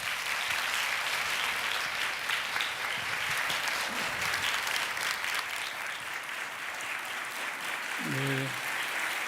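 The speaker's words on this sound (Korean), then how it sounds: "우리 목사님 나오실 때 큰 박수로 환영해 주시기 바랍니다." A church congregation at a dawn prayer service claps to welcome a pastor to the front, a steady, moderately distant wash of applause with a brief murmur of voices near the end.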